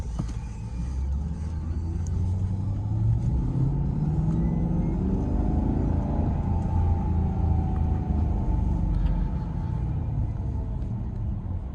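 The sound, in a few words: 2009 Maserati Quattroporte S Executive GT driving in manual mode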